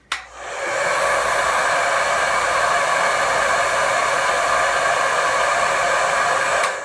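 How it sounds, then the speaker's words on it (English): A hair dryer whirs on and runs loudly and steadily while styling a wig, a constant high airy roar that switches off at the end. "Turn on your blow dryer and try not to melt your hair"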